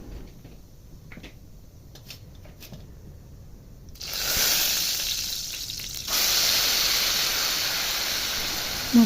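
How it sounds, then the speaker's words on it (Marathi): Ground masala sautéing in hot oil with cumin and mustard seeds in a home kitchen pan, a sizzle that starts low and quiet and then jumps to a loud, steady crackling hiss from about four seconds, growing fuller after six. "आपण काढलेला मसाला परतून घेऊ."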